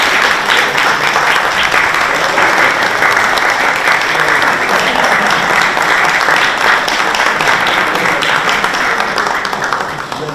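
A crowd at a birthday celebration applauds, a loud, dense and steady wall of clapping that carries on for about ten seconds and tails off slightly at the end.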